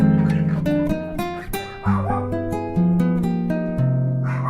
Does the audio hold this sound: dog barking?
yes